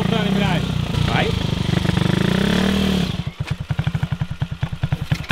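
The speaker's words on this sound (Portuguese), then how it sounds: "pra sair com a moto, você tem que acelerar bem devagarzinho e soltar a embreagem" A motorcycle engine revs under a learner rider's throttle as the clutch is let out, first a loud sustained drone with talking over it, then breaking into uneven, pulsing chugs as the engine loads and stutters.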